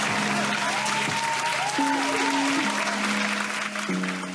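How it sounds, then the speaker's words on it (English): Applause for AFX Lab, a dense, steady wash of clapping lasting a few seconds, with sustained musical tones and shifting pitches running over it throughout. "AFX Lab, you deserve a round of applause for it."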